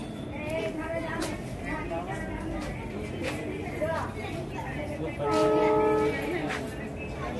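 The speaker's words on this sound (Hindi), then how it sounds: "बगल में रेलवे ट्रैक है जो आप आवाज़ सुन सकते हैं।" A train runs on a railway track beside a hilltop temple in India, rumbling steadily nearby and sounding its horn in a clear sustained blast, with people talking around it.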